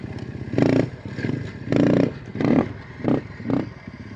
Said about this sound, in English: if you listen and pay real close attention to the throttle, I'm going to ride through here.